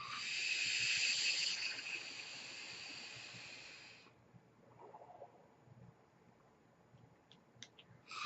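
A Smok VCT vape with a 0.5-ohm single vertical A1 coil fires at 35 watts with the airflow wide open, giving a steady airy hiss for about four seconds before it stops, followed by quiet faint crackle.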